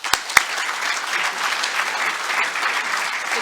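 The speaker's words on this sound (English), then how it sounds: "So let's give them a round of applause." Audience applause at a Rotary Club meeting, a couple of sharp initial claps quickly swelling into steady, dense clapping from the room that holds at an even level throughout.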